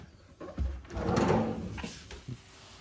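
A big storage drawer in a Peak Mtn Camp X40 camper trailer slides along its runners in a single close, rumbling movement lasting about a second and a half, then settles, with no talking.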